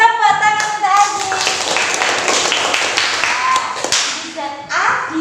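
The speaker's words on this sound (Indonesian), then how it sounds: "Tepuk tangan untuk Aziz" Children in an Indonesian school classroom clap together in a short burst of applause, with a teacher's voice and kids' chatter mixed in; the clapping is close, busy and uneven, fading briefly before picking up again at the end.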